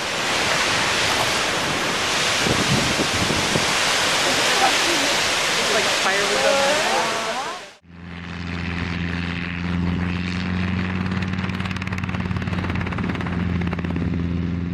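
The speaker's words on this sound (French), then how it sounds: "un endroit où les vagues s'écrasent contre les rochers, s'écoulent dans un système de grottes, puis jaillissent violemment d'une ouverture située au-dessus" Waves crash and surge against rocky cliffs and through sea caves at Boca do Inferno on the Portuguese coast. A loud, continuous roar of surf fills the first half, then cuts to steady churning water with a low mechanical drone.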